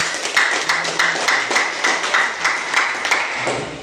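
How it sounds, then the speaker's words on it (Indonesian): A classroom of pupils clapping hands together in a steady rhythmic pattern, with regular beats close by and moderately loud, alone without talk. "Nah, tepuk tangan dulu Kak."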